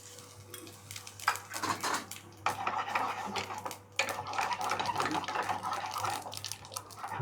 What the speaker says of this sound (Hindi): अच्छे से तड़क रहा है